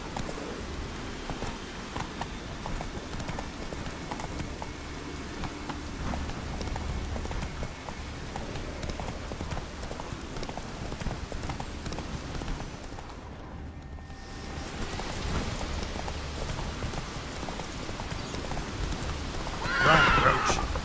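In The Witcher 3, the horse Roach gallops through rain: rapid rhythmic hoofbeats over a constant wash of rainfall, with a brief sharper burst near the end.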